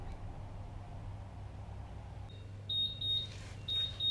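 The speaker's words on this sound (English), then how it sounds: "There goes the alarm." A kitchen timer beeps in short repeated high-pitched bursts over a steady low hum, starting partway through.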